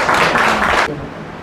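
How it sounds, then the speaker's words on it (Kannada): Loud, dense applause from an audience at a Kannada-language book release and award function on World Health Day, a steady wash of clapping for about a second that cuts off abruptly into quiet room tone. "ಇವರಿಗೆ ಜೋರಾದ ಚಪ್ಪಾಳೆಯನ್ನ."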